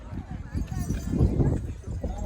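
Horse hooves clip-clop on the ground at Mahabaleshwar in an uneven, moderately close rhythm, mixed with people talking nearby.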